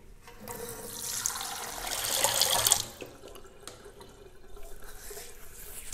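Tap water runs steadily into a sink, hot water for rinsing the face before a traditional wet shave, a loud rushing stream that swells over the first three seconds and then eases into quieter splashes and drips.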